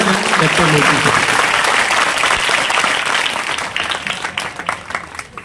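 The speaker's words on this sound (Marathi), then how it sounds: "खरोखर एकदा जोरदार टाळ्या होऊ द्या." An audience at a school singing competition held for a Dr. Panjabrao Deshmukh birth-anniversary celebration breaks into loud, dense applause that stays full for several seconds before thinning out, with voices mixed in.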